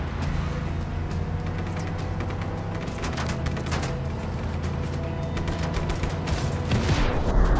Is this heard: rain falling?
no